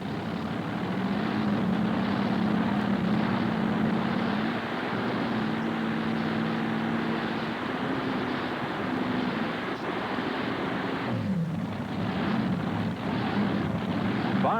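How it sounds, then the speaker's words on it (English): A loud, continuous roar of a pulling tractor's five Chevrolet engines, droning steadily with slight rises and dips in pitch, overlaid with wind buffeting and no voices. "There are 5 Chevrolet motors on this tractor."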